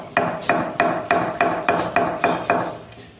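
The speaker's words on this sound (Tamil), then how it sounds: "இப்போ சின்ன வெங்காயத்தை ஃபைனாக கட் பண்ணிக்கணும்" A knife chops shallots finely on a board in a home kitchen, giving about nine sharp, evenly spaced taps close by with no talk.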